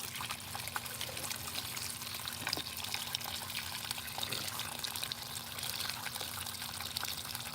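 Water running steadily from a garden hose, a continuous soft splashing pour with a faint hum in the background.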